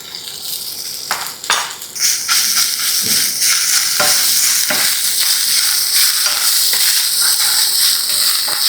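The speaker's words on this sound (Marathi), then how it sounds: "हे छान परतून घ्यायचं अगदी." Cumin, garlic and ginger frying in hot oil in a pan, a steady loud sizzle with intermittent scraping and stirring clinks as the spices are tossed.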